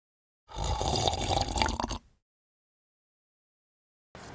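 Engine oil poured through a small funnel into the filler of a BMW engine, a steady liquid gurgle and trickle for about a second and a half, then silence.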